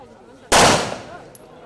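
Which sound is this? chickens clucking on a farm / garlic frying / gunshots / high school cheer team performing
gunshots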